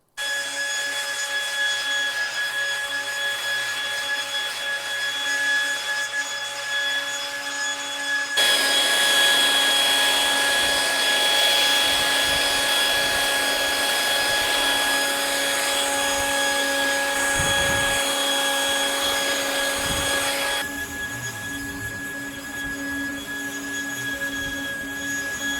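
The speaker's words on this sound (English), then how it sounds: "I got a really awesome leaf blower that I'm gonna use, and this is gonna get up all that debris and junk from the driveway" A powerful leaf blower runs loud and steady close by, whining as it clears nails, gravel and construction debris off a driveway, its pitch shifting partway through as the nozzle moves.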